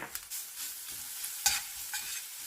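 Pork stir-fries in oil with scallion and gochujang, a soft sizzle broken by spatula scrapes and stirring clatter, one sharper clank midway, with no talking.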